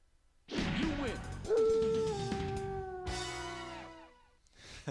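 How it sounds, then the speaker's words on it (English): Howl of a werewolf fighter striking a victory pose after a knockout in the PS1 fighting game Bloody Roar, a loud rising then long sustained wail with a second drawn-out cry, alone and near. "So he's got his howl in wolf form."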